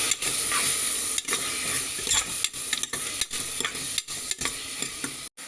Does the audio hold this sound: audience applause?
no